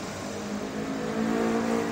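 A Honda Beat FI scooter engine held at full throttle, a steady, moderately loud buzzing drone with a slight rise in pitch, heard close with no talking.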